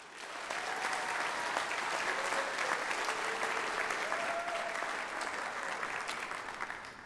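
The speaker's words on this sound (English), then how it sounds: "Please let us all recognize the new Honor Society initiates into the College of Health and Human Services with a round of applause" An audience claps steadily for new honor society initiates at a university honors convocation, a sustained, even wash of applause from a large crowd in a hall that fades slightly near the end.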